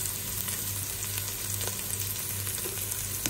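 Garlic fries in a pan for pancit bihon, a constant close sizzle with occasional faint stirring taps, no voices.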